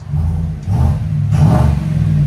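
Close, loud revving from a 5.3L V8 in a 2024 Chevy Tahoe running a Black Widow Widow Maker exhaust: two quick throttle blips rise over a heavy, rumbling idle.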